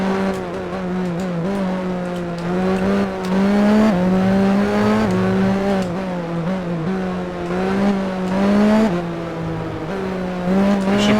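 A video game race car engine, a 1988 McLaren at the Hungaroring, drones loudly and continuously, its pitch rising and falling with repeated shifts and revs, with no voices.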